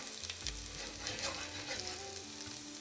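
Cumin seeds and fresh ginger frying in hot oil for an Indian-style curry, giving a steady close sizzle with soft stirring scrapes throughout, no talking.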